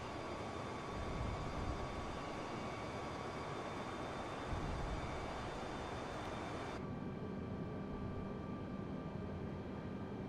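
Steady broad roar of an Airbus A320neo airliner in flight in Microsoft Flight Simulator, a constant engine and airflow drone with tonal hums, continuous and fairly loud, with a slight shift in tone partway through.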